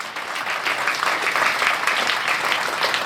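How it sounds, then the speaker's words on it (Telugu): Loud, steady applause from a crowd of school teachers at a reading celebration in Mudigonda, a dense wash of clapping that holds at an even level throughout, with no voices above it. "గట్టిగా చప్పట్లు కొట్టే మీరు టీచర్స్ అందరికీ"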